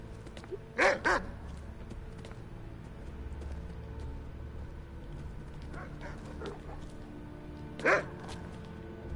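Dogs in the fantasy game Skyrim give short whimpering yips: a quick pair near the start, a softer cluster midway and one more near the end, over quiet ambient background.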